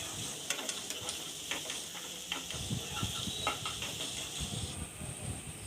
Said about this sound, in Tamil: வெங்காயம் அந்த அளவுக்கு நல்லா வதக்கிக்கோங்க.